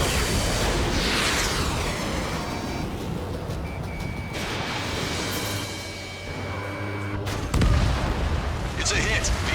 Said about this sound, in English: It's a hit. The unidentified aircraft is going down.